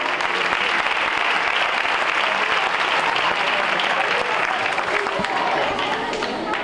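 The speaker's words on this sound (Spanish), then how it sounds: "Fuerte aplauso." Loud, sustained applause from an audience at an award ceremony for primary school winners, dense steady clapping filling the whole stretch without pause.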